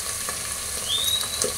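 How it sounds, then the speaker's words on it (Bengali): Onion and garlic paste fry in a pan with a steady sizzle and brief stirring scrapes, plus a thin squeak partway through. "তো এইগুলোকে আমি কষিয়ে নেব।"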